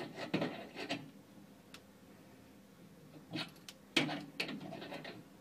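A spanner tightens a compression nut onto a household water filter fitting, making close, quiet scraping and clicking bursts in two clusters separated by a short pause.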